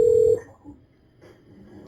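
Ringing of a telephone on a recorded 911 call, one loud electronic ring tone at the start that stops abruptly, followed by quiet line noise with faint murmurs.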